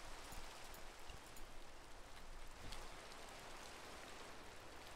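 Rain falling in Minecraft, a soft, even patter and hiss with faint scattered drops, steady throughout and heard alone.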